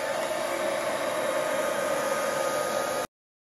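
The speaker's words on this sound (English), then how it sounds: "So I'm going to blow that out with my hairdryer." A hair dryer blows across wet acrylic paint during a Dutch pour, a steady close-up rushing hiss that runs for about three seconds and then cuts off abruptly.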